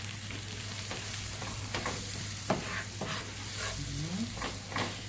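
Peas sautéing in a frying pan with curry, before coconut milk goes in, give a steady close sizzle broken by several scraping stirs and utensil knocks, over a low constant hum, with no talk.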